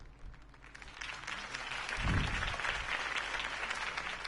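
Steady crowd applause in a Batman video game, many hands clapping after a campaign speech, swelling slightly midway and continuing at a moderate, even level throughout.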